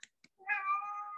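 A cat gives one drawn-out, clear meow close by, preceded by two faint short clicks, with no talking.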